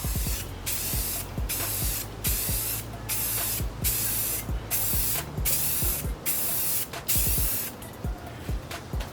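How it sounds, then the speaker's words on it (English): Rust-Oleum gloss white spray paint hisses from an aerosol can in repeated bursts, each spray a few seconds long with short pauses between, laying an overlapping coat on an engraved shadowbox cover, loud and close. "That's our coat of Rust-Oleum gloss white."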